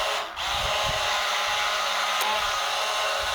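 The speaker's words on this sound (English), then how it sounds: "I'm gonna switch to my electric mixer" An electric mixer whirs steadily and loudly through olive oil soap batter, a continuous motorized drone with a brief dip at the start and no pauses.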